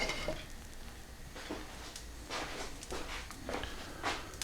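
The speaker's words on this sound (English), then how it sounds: "I've placed some of that unsalted butter into the frying pan and just melting it." Faint sizzling of unsalted butter melting in a frying pan, with soft scraping and stirring sounds at irregular intervals.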